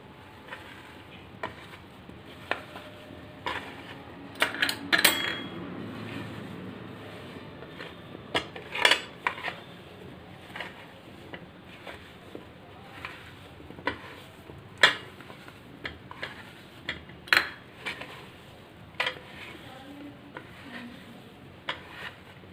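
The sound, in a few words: mixing soya manchurian ingredients in a bowl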